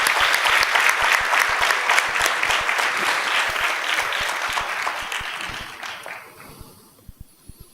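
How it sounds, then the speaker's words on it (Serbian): Sustained applause from a TEDx Novi Sad audience for volunteer translators, dense and steady for about six seconds before thinning out into a few last scattered claps. "ja bih voljela da ih pozdravite jednim aplauzom"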